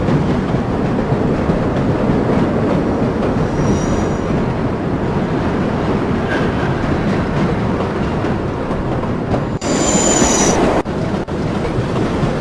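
A New York subway train on the Flushing Line 7, in the game World of Subways 4, rumbles loudly and continuously with rolling wheel noise and brief high squeals, heard up close throughout.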